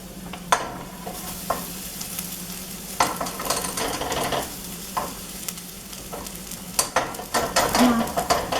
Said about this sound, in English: so then stir in drained farro